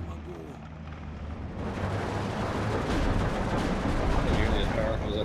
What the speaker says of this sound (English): That's a barrage from that 105.